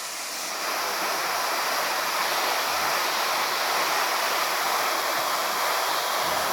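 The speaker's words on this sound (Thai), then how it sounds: "นี่คือความสวย งามอย่างของ น้ำตกจักดิน" Chet Kradin waterfall in Thong Pha Phum, western Thailand, pours as a steady, dense roar of rushing water that stays loud and constant throughout, with no voices.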